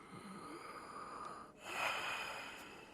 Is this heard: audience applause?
no